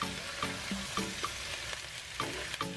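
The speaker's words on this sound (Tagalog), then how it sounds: "Igigisa lang natin ito hanggang sa maging medyo light brown na yung kulay nito." Pork belly sautés in a pan for a Bicol Express dish, a steady soft sizzle with occasional stirring scrapes and clinks, fairly quiet and with no talking.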